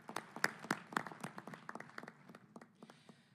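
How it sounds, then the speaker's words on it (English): Scattered applause from delegates at the G20 Leaders' Summit in South Africa, a modest round of separate claps that thins out and fades toward the end. "Let's give ourselves a round of applause for the wonderful day we've spent."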